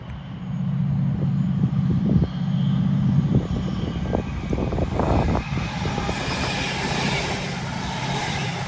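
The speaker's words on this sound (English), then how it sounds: "I wasn't expecting a Class 68 whole locomotive to go through Small Heath." A Class 68 diesel locomotive runs through Small Heath station, a loud, continuous rumble and rattle of wheels and engine close by, with clanks along the rails and a high whine toward the end.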